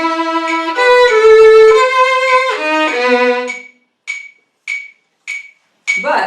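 Sustained instrumental notes give way to a metronome ticking quarter-note beats at tempo 100: four sharp, evenly spaced clicks, close and alone.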